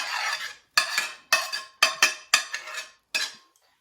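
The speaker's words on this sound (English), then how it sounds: "And then just stir them up." A utensil stirs garlic and chopped onion in a pot in a series of about six separate scraping strokes, each a short, bright clatter that fades quickly. The strokes are near and distinct, with brief silences between them and no voices.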